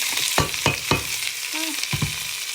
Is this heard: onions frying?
yes